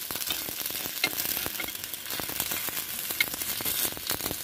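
Aloo thalipittu, a potato and semolina roti, fries in oil in a covered pan, giving a steady close sizzle crowded with sharp crackles and pops and no talk.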